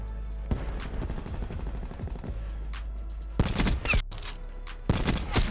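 Rapid bursts of gunfire from a Black Ops 4 match, an Outlaw sniper rifle fitted with a bolt cylinder, crackling near and loud in dense volleys, with a few brief lulls between the bursts.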